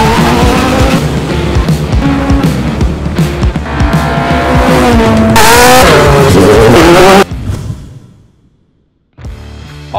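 Drag racing cars at a Davao event roar loudly as they launch and accelerate, with revving engines and tire squeal that abruptly cut off, fade to near silence, then return briefly.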